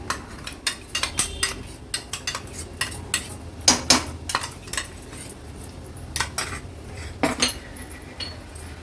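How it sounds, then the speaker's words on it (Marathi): A paste of dried coconut and cashews is sautéed in oil in a pan, with a spoon repeatedly clinking and scraping against the metal over a soft, low sizzle. "वाटण पण तेलामध्ये छान असं परतून घ्यायचंय म्हणजे तेल सुटायला हवं असं"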